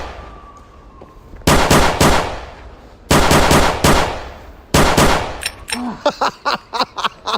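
Loud, close bursts of rapid automatic gunfire at a shooting range, three long strings of shots separated by short pauses, then a run of spaced single shots ringing out.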